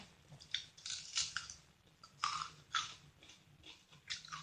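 Fresh date fruit being bitten and chewed close up, giving a run of crisp, moist crunching bursts spread unevenly across the clip with short pauses between bites, with no talking over them.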